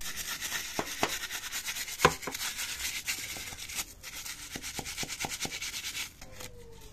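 Someone scrubs a greasy Yamaha FZ motorcycle with degreaser, giving a steady close rubbing and brushing texture broken by sharp scraping strokes and a few knocks, with no talking.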